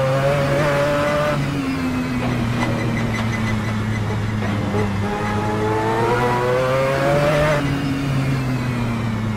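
A Mazda 787B race car in a racing video game, its rotary engine screaming loud and continuous, with the pitch climbing and dropping through gear changes across the run.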